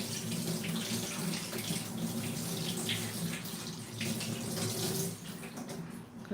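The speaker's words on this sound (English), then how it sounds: "Let me rinse this off." Running tap water rinses a blender jar after blending beans for akara, a steady rushing stream splashing into a sink, continuous and close for several seconds before easing near the end.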